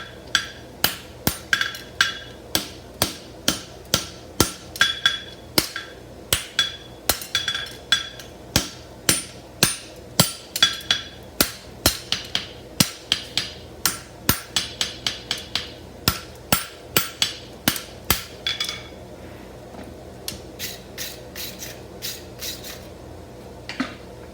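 A hammer bumps the toe of a horseshoe on an anvil, ringing metallic blows struck in a fast, steady rhythm, with brief pauses between runs of strikes, loud and close.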